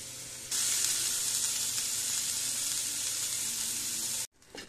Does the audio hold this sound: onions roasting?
yes